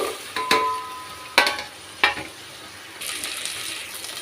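Small shallots, garlic cloves and curry leaves fry in oil in a pan for village-style poricha kulambu, giving a steady close sizzle broken by several sharp spatula clanks and a brief watery hiss.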